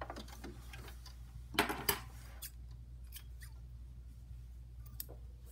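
Scissors trim quilt block fabric a thread width outside the line to a quarter inch, giving two sharp close snips near the middle over a steady low hum and quiet room noise.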